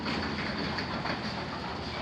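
An overhead garage door rumbles open with a steady, dense rattling roar of its panels rolling along the tracks, close and continuous throughout, with no voices.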